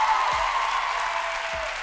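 Theatre audience applause fills the space as a steady, continuous wash of clapping with a faint tonal hum underneath, fairly distant and even in level, with no distinct voices.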